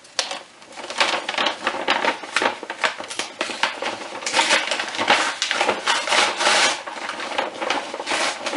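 Thin plastic bag material crinkles and tears as the handles are ripped off, producing close, bursty rustling and scraping in uneven waves.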